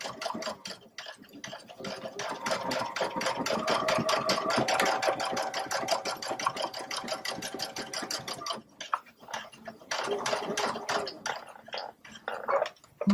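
A Baby Lock Solaris sewing machine stitches a straight seam with a fast, rhythmic ticking chatter that runs for most of the stretch, pausing briefly and then resuming, with no voices.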